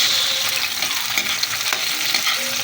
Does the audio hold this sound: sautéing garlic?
yes